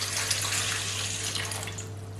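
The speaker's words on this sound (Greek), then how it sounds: "Ένα μπολ θα βάλουμε 350 γραμμάρια νερό" Water running from a tap into a mixing bowl for a kymadopita dough, a steady splashing stream heard up close for about two seconds with a low hum underneath and no speech.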